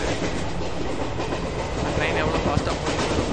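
Guruvayur-Madurai Express 16328 in the MSTS train simulator, departing Punkunnam, rolls along with a steady, loud rumble and rhythmic clickety-clack of wheels on rail joints, continuous throughout.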